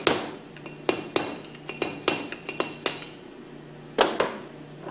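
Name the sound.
pump seal tapped out with a screwdriver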